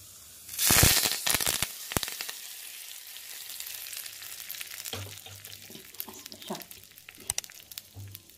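Curry leaves and urad dal hit hot tempering oil with a loud burst of crackling and spitting, then settle into a quieter, uneven sizzle with scattered sharp pops.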